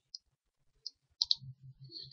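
Computer mouse clicks while working in SolidWorks CAD software, a few faint, sharp isolated clicks close to the microphone, with a soft low murmur near the end.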